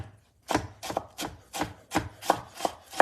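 Chopping food into small pieces for a rustic home-cooked meal of paksiw and ampalaya: about eight sharp knife strikes on a board in an uneven rhythm, close and fairly loud, with no talk.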